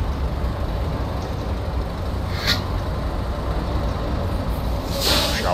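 A Scania truck's air brake hisses in the Brazilian driving game Scania Heróis da Estrada, two short sharp releases of air over a steady low engine rumble, the second longer and louder near the end.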